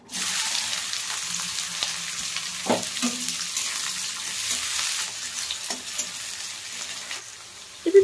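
Steady, loud sizzling of onions frying in hot oil with bay leaf and cardamom, with a few soft clinks and stirring sounds, and a sharper knock at the end.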